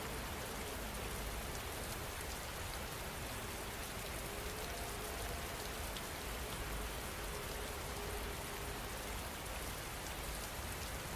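Steady rain falling in an even, dense hiss of drops on surfaces, constant and unchanging throughout with no voices or other sounds.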